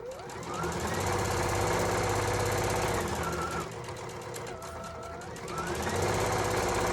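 A sewing machine stitches a jacket seam, its motor running in a fast, loud mechanical rattle that eases briefly in the middle before picking up again, with no talking.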